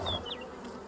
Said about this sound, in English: Wall-to-wall bees yet, so this is a real good unit to use as a boost colony.